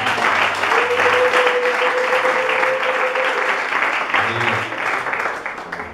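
A church congregation applauds and cheers loudly and steadily, with a voice carrying over the dense clapping.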